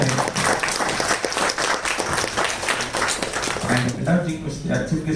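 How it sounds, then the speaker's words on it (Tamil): An audience at a women's day celebration gives strong applause to welcome a guest, steady clapping for about four seconds before it thins out under voices. "கரகோஷமுடன் வருக வருக என வரவேற்கிறேன்."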